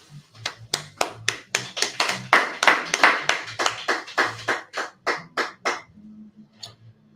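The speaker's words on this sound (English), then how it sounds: "Clap it up for the teacher." Rhythmic clapping from a gathered audience for a teacher at a meeting, about seventeen sharp, evenly spaced claps building in unison, loud and close, then stopping with a faint voice and a low hum at the end.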